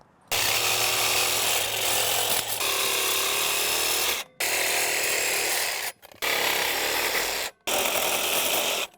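A loud power tool grinds through bolts on a metal handrail set in concrete stairs, cutting in four sustained harsh bursts separated by brief pauses.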